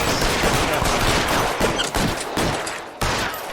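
Gunfire in the video game L.A. Noire, with a dense, loud burst of shots and heavy crackling reports running throughout, a few sharper cracks standing out near the end.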